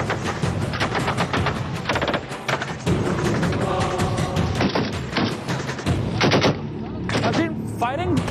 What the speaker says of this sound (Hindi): फायरिंग शुरू हो चुकी है